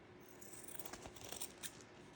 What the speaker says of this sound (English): At the corners, I'm going to trim it at an angle